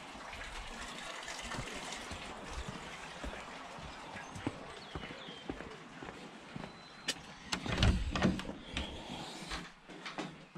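Water running from a hose pipe laid down in a dusty area beside newly finished pond pipework, a soft, continuous splashing and gushing with a few louder bursts near the end.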